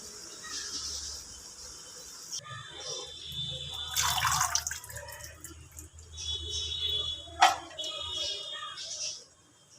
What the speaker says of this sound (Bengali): বাঁধাকপিটা ধুয়ে নিচ্ছি